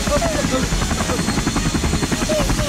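A luxury helicopter comes in to land, its rotor throbbing in a fast, steady pulse with a continuous engine drone, while a voice talks over it.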